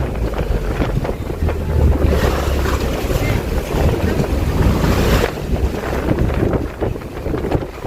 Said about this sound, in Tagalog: tumatalon-talon yung bangka. Dahil nga malakas yung alon.